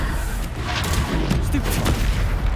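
Spell explosions in Hogwarts Legacy combat from the Bombarda spell boom and crackle in quick succession, loud and dense, with battle noise throughout.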